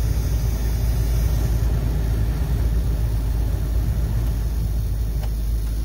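Blower motor of a 1996 Jeep Cherokee XJ, repaired and running without squealing: a steady, close, rumbling whoosh of airflow with no whine or squeal and no speech.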